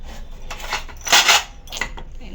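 Steel vessels clatter and clink against each other in several quick metallic bursts, close and fairly loud, with one sharper clang in the middle.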